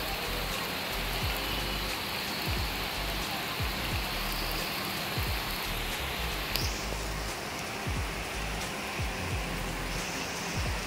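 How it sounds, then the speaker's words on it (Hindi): Heavy, continuous rain hisses down with scattered drips and splashes nearby, a constant wash of noise throughout. "तीन चार दिन से लगातार बारिश पड़ रही है"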